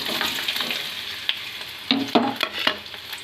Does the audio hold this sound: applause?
no